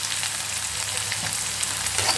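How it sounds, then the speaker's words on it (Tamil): Onions sautéing in a pan of oil for a tamarind curry, a steady close sizzling and frying hiss that runs unbroken and fairly loud, with no talk. "வெங்காயம் வதங்கட்டும்."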